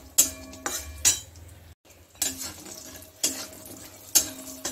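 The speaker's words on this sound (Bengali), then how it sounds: "এখন আমি এই বিউলির ডালে বড়িগুলোকে এই তেলে ভেজে নেব।" Lentil dumplings (bori) frying in oil in a pan, with a soft steady sizzle broken by several sharp clinks and scrapes of a utensil stirring against the metal.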